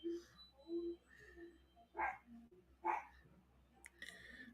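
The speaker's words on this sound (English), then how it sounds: "Mama Mac, you heard that schnauzer?" A schnauzer barking somewhere in a home, several short yips and barks in an irregular run, faint and a little distant, mixed with quiet voices in the room.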